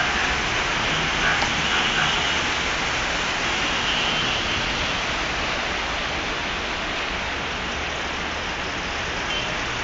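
Rain falling steadily during flooding in Jeddah, a dense, even hiss of water that carries on unbroken with no voices heard.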